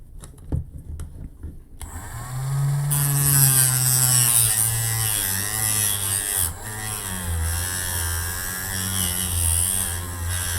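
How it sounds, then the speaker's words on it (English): A Dremel rotary tool cuts into a part on a Volkswagen Golf Rabbit, spinning up after a few taps to a loud, high whine that wavers in pitch as it bites, running continuously close by. "I'm gonna use the Dremel"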